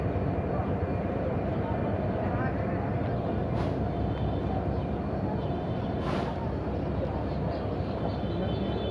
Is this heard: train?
yes